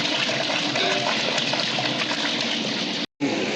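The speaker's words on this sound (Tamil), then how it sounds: "இப்போ வந்து 3வது கேன் ஊற்றுறாரு." Water gushes in a steady, loud, continuous pour from a can into a large pot for Dindigul biryani, close by and alone, cutting off abruptly for a moment near the end before resuming.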